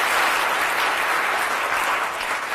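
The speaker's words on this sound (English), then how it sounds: "can I have a round of applause," A crowd at a live science show applauds a volunteer called up from the audience, producing a thick, continuous wash of clapping that holds steady throughout, with no voices over it.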